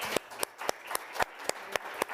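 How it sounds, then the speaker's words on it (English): Sparse applause from a small audience after a panel discussion at the World Economic Forum in Davos, with a handful of distinct hand claps in an uneven rhythm, fairly close and faint. "A round of applause for this tremendous panel."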